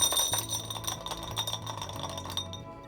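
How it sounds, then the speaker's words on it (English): Ice stirred with a spoon in a glass of Negroni cocktail gives a quick run of light, bright clinks and tinkles, close by and steady for a few seconds, with no talking. "we're just going to give that a very brief stir just to mix and chill"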